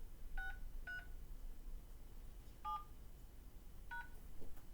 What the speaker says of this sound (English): Enter the first 8 letters of your answer using the buttons on your touch-tone phone, followed by the pound sign.